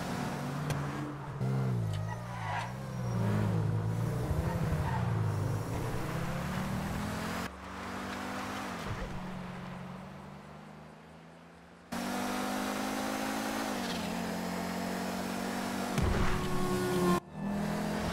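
A car driving in Grand Theft Auto V, its engine droning steadily with shifting pitch as it revs and changes gear, loud and close, with abrupt cuts in the sound and faint talk at times.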